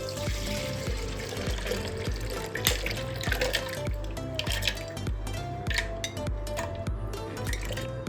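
Jaggery water pours and trickles steadily into a mixer jar, with music playing throughout in the background.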